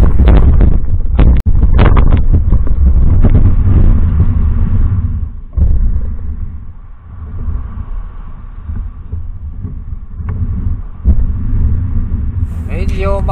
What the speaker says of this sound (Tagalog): Medyo mahangin pa rin sa hapon na to